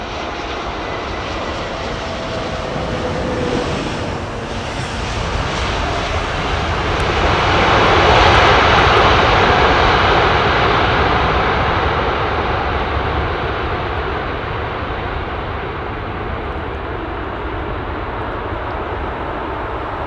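An aircraft with a split rudder assembly at London Heathrow Airport, its engines roaring in a steady loud wash that swells toward the middle and eases off, no voices.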